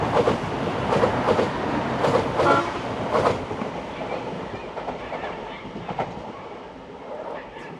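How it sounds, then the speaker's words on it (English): A diesel locomotive rumbles past in New South Wales, leading another diesel locomotive and a train of cement wagons, wheels clattering rhythmically over rail joints, the sound loud at first then gradually fading into the distance. "leading another diesel locomotive and a train of cement wagons"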